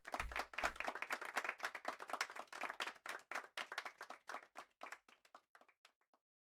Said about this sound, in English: Can I play the clap sound effects again?